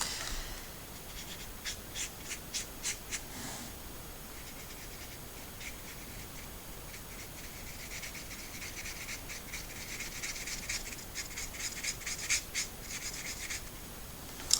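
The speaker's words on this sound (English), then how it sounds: "I'm just going to blend that straight off the paper actually." A dry watercolour brush blending paint across paper: soft, faint repeated scratchy strokes, quick and rhythmic in bursts with brief pauses, close by and alone.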